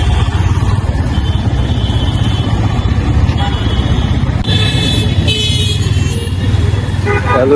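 A Yamaha XSR 155 motorcycle engine runs steadily and loudly throughout, with a constant low engine rumble and a brief tonal horn-like burst partway through, while road traffic noise surrounds it.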